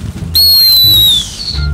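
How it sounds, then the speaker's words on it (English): A single loud, piercing dog training whistle blast about a second long, slightly falling in pitch, used with a gundog, close by over low outdoor rumble. "Two whistles to go, one to stop."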